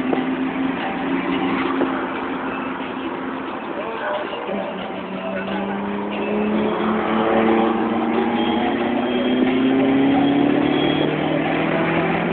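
Car engine running as it drives with four people inside, a steady mid-pitched drone with rising and falling revs held throughout, with faint voices in the cabin.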